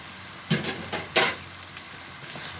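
Green pepper sizzles in a hot pan with onion, stirred in a few quick scraping strokes over a steady frying hiss, close and clear.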